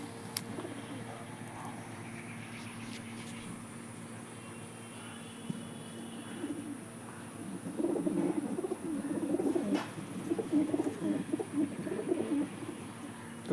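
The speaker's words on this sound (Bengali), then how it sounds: "এটা হচ্ছে কালদুমার রেগদার পায়রা।" Kaldumar Regdar pigeons coo softly and repeatedly in the background, growing busier in the second half against a steady low hum, with no voices.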